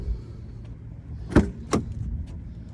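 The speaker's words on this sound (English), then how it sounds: "And the door closes fine." A Toyota Prius V car door swings shut with a solid thump, followed moments later by a second sharper knock, heard close over a low steady background hum with no talking.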